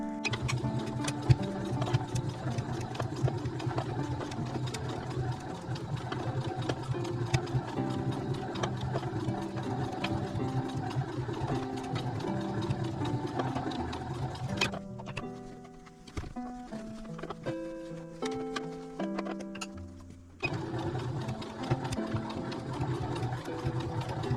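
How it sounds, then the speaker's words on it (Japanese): A sewing machine stitches a quilted pouch, running steadily with a fast mechanical whir and rhythmic stitching clatter, briefly slowing and pausing before starting up again. "こうミシンでグッと縫っていきます。"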